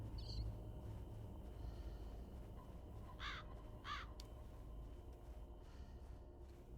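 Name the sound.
bird sounds in a video game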